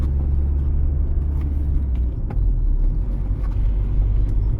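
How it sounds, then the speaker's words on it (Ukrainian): A car in second gear rolls over speed bumps on a town street, a steady, loud, low engine and road rumble with a brief dip partway through, and nobody speaking. "На другій передачі я переїжджаю поліцейських лежачих."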